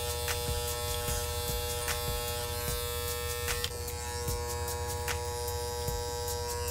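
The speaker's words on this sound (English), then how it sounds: "Zero on the clippers. Just gonna go around the ear a little bit." Electric hair clippers set to zero run with a loud continuous buzz close by as they trim around the ear during a low skin fade, broken by faint repeated ticks of the blade against hair and skin.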